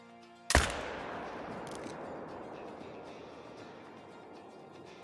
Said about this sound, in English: Don't really know what happened, but shot fired.